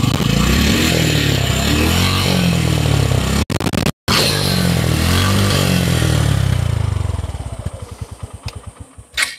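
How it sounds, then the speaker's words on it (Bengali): A new SF motorcycle in matte blue runs at a Bangladeshi showroom, its engine loud and rough with revving, a brief cut-out, then settling into a slowing, pulsing idle that fades toward the end. "গাড়ির সাউন্ডটা দেখালাম"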